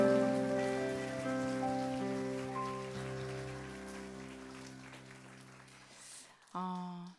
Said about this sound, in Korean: 주께 감사와 영광의 박수 드리겠습니다